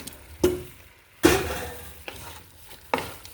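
Chicken pieces with turmeric, salt and cumin powder being stirred in a pan for chicken kabsa, heard as a few scraping utensil strokes over a low sizzle, close and alone.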